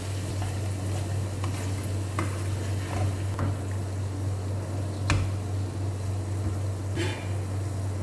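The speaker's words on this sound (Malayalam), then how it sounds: "ഇനി ഇതിലേക്ക് വറുത്ത് വെച്ചേക്കുന്ന ചെമ്മീൻ ഫ്രൈ ഇട്ട് കൊടുക്കാം." Fried prawns are stirred and roasted in a masala pan, making a steady sizzle over a low hum, with scattered scraping clicks from the spoon and a sharper knock near the middle.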